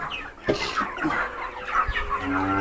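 Broiler chickens on a farm cluck and squawk close by in a short burst of overlapping calls, with one louder sharp cry near the start.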